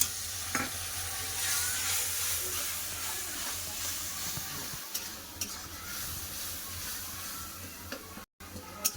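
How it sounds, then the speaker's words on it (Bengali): Coriander, cumin and turmeric masala with a splash of water sautéing in a pan, a steady soft sizzle and hiss with occasional light scraping taps, alone without talk. "ধনা জিরা গুঁড়া হলুদ গুঁড়ো সামান্য একটু জল দিয়ে ভালো করে মশলাটাকে কষে নেবো"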